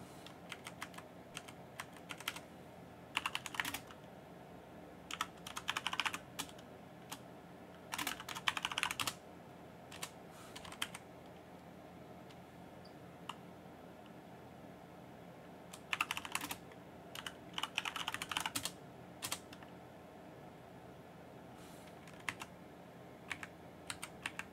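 Computer keyboard typing in scattered bursts of rapid clicks separated by quiet pauses, close and clear over faint background hum, no talk.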